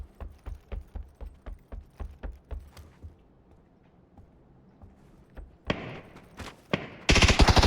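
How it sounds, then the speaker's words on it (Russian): Rapid bursts of automatic gunfire in the battle royale game PUBG, a steady run of sharp shots followed by quieter mechanical clicks, then loud close blasts rising toward the end. "по мне уже другой тип стреляет"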